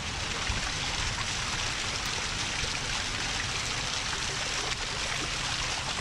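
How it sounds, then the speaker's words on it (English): Water from a hot spring in British Columbia flows steadily and close by, a constant broadband rush and trickle that never breaks, with no voices over it. "Here's the hot springs."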